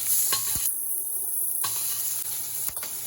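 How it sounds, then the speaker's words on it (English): Shrimp pan frying in a hot pan for Sri Lankan devilled prawns: a loud, continuous close sizzle and hiss with a few brief clicks and stirring scrapes, no talk. "are pan frying the shrimp right now"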